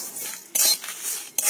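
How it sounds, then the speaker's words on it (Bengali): A spoon stirs fennel seed pickle spice in a pan, producing soft scraping and rattling strokes in quick bursts, close and fairly loud, with no voices. "এটাকে হালকা নাড়াচাড়া করে নামিয়ে নেব"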